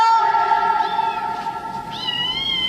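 A kitten gives a sustained, tonal meow close by, with a rising wavering cry near the end, in a room with noticeable echo.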